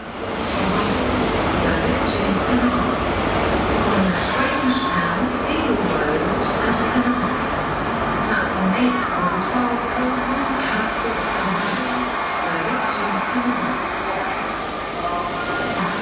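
A GWR Flying Banana high-speed train runs on rails, giving a loud, steady rumble with wheel squeal and rail noise that continues unbroken throughout.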